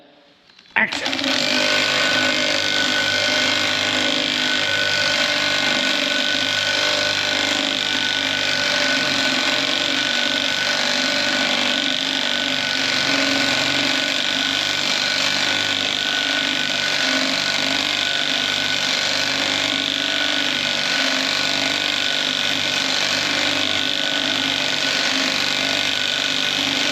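Loud, steady mechanical whirring and rattling from a shop tool on a John Deere 4045 diesel engine being torn down after running with gravel inside, continuous at close range for the whole stretch with no talk.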